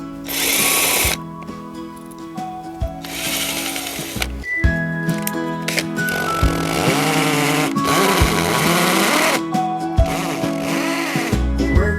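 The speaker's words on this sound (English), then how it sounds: "I'm going to drill into the brick" A power drill whines loudly in several bursts, spinning up and down as it bites into brick, with short pauses between runs.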